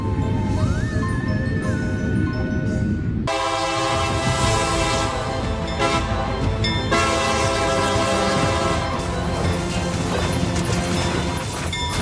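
Long freight train rolling past with loud rumbling wheels and clanking cars, its horn blaring in sustained blasts with a rising tone early on, then steady heavy rail noise with metallic squeals continuing close by.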